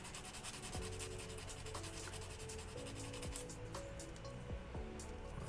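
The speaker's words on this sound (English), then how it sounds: "That's why we have sanding twigs" Steady, close scratchy rubbing of hand sanding with a sanding stick on a model kit part, continuous and fairly quiet, with a few faint clicks.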